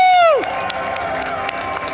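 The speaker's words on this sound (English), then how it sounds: "Come on, let's give bigger applause" Audience applause and cheering at a Garage48 Telecom hackathon award ceremony at Kultuurikatel: a loud crowd of clapping and shouts fills the hall right after a short falling electronic tone.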